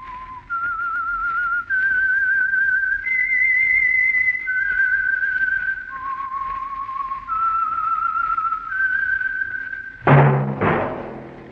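A person whistles a slow, sustained melody of long clear notes, close and steady, the opening signal of a radio detective show, ending with a sharp sudden burst of sound.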